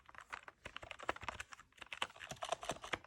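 Keys clack on a newly unboxed computer keyboard, a quick irregular run of crisp, close taps with short pauses, quiet and without talk.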